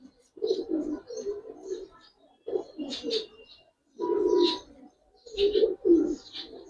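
Pigeons of a Giribaz fancy breed cooing in several short bursts, close and fairly clear, with brief pauses between calls and no talk.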